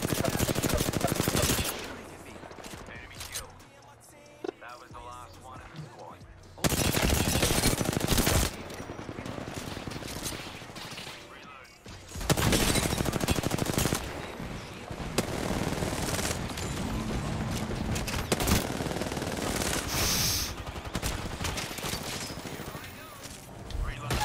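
Heavy gunfire in an Apex Legends ranked match: long, loud sustained automatic bursts alternate with brief lulls, with mechanical clatter and game effects throughout.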